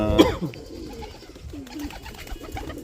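Pigeons coo on a rooftop loft among racing birds, a few soft throaty calls close by over light background noise, with one louder burst near the start.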